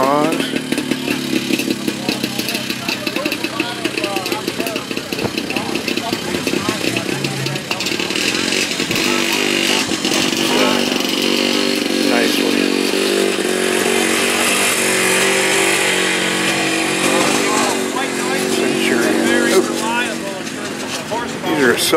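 Vintage Yamaha snowmobile engines, including sleds from the 1960s and 1970s, run with a raspy two-stroke buzz and revving at an outdoor vintage snowmobile show in Rogers City, Michigan, with people talking over the engine noise throughout.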